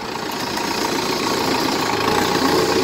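A Kubota M6040 tractor's 60-horsepower diesel engine runs at a steady, loud, rough idle close by, with a constant low rumble and no talking.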